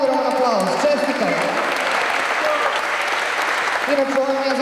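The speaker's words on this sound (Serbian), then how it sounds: "Ajmo jedan ogroman aplauz." Loud, sustained audience applause greets a new bench press record in the Open up to 100 kg category at a powerlifting competition in Serbia that includes athletes with disabilities, a dense clapping crowd with a voice speaking briefly at the start and end.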